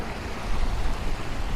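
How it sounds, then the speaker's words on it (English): A waterfall pouring into a fishing spot gives a steady, broadband rush of falling water, continuous and fairly loud with no voices over it. "There's the waterfall."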